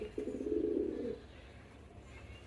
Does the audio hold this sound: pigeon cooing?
yes